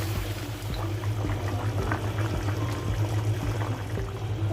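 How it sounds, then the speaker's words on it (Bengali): Warm water poured into a simmering chicken and elephant foot yam curry in a pot, a steady close pouring and bubbling rush lasting several seconds with no talk. "নিয়ে গরম গরম হালকা গরম পানি দিয়ে দিব।"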